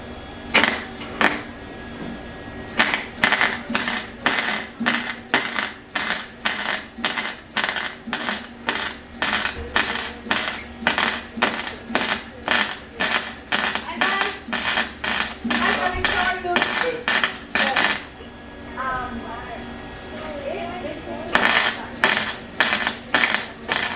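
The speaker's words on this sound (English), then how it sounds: "Now that's on there, just gotta weld all around it." Welding a metal patch shut in a car engine bay, heard as a long run of short, sharp crackling bursts in a quick, even rhythm, close and loud, with one brief pause midway.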